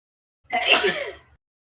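A single short sneeze, fairly close and isolated, bursting out over about a second against silence.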